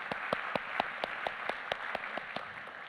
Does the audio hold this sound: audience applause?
yes